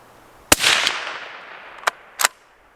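A suppressed Ruger American Scout rifle fires three shots outdoors: one sharp crack with a lingering rumble, then two quicker, fainter pops about a second later, each close and abrupt.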